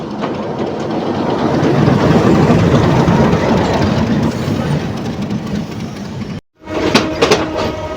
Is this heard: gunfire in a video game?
no